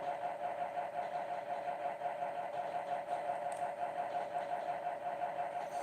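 A train engine hums steadily in a relaxed train-driving video game, a constant mid-pitched drone chugging along evenly at moderate level with no voices over it.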